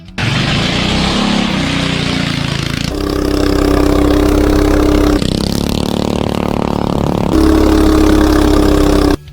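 Coleman CT200U-EX minibike fitted with a 420 big block engine, straight chain and 40-tooth rear sprocket, runs steadily and loudly close by, with a deep idle-like drone that shifts pitch a few times before cutting off at the end.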